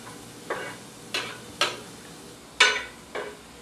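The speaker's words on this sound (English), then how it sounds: "All right, so shallots are going into the pan." Shallots softening in an All-Clad pan, a few separate scraping stirs about half a second to a second apart over a quiet, faint sizzle, close and without talk.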